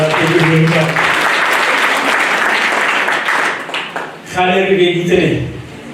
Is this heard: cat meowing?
no